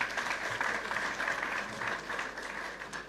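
An audience at a political party rally applauds, steady dense clapping from many hands throughout, fairly loud and without talking.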